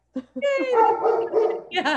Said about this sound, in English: oh there's your puppy